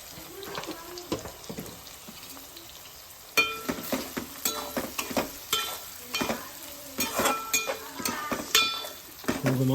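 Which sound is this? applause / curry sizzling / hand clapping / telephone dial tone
curry sizzling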